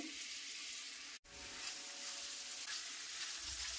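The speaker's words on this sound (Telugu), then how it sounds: "ఆనియన్స్ వేసుకొని ఫ్రై చేసుకోవాలండి" Chopped onions fry in oil in a home kitchen, giving a constant soft hiss and crackle throughout with one brief break, no voices.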